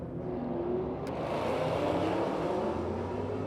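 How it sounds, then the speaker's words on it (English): A marble-colored Honda NSX pulls away at a cars-and-coffee gathering, its engine a steady droning roar heard from a distance over a broad background wash. "NSX taking off"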